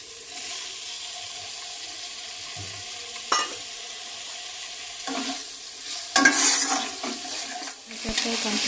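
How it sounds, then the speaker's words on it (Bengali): A spice mix for a vegetarian potato curry is stirred and fried in a pan: a steady low sizzle is broken by a few sharper spatula scrapes, the loudest bursts coming near the middle and toward the end. "এই সব কটা ভালো করে মেশানো হবে, ভালো করে কষানো হবে।"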